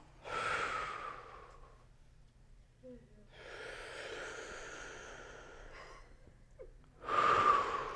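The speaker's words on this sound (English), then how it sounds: "Come on, keep breathing." A room of people breathing together in a group breathing exercise, with loud, deep breaths in bursts separated by short pauses and a faint voice between them.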